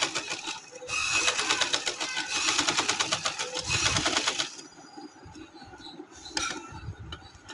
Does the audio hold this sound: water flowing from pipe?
no